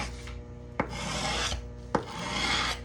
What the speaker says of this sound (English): clean off this excess stuff that you can with your little scraper